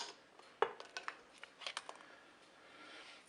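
Eggs lifted on a spoon and set into a salad bowl of cold water, heard as a few faint, light clinks of spoon against bowl spread over a few seconds in a quiet kitchen.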